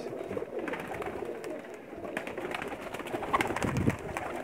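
Pigeons coo and rustle softly on a rooftop loft in Pakistan, a low murmuring burble with faint wing flutters and background noise, no clear talking.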